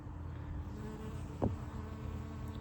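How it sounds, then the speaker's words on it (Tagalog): A steady, close insect buzz drones on, like a bee hovering, with a brief louder swell partway through. No one speaks. "nakakatuwa itong bubuyog na to"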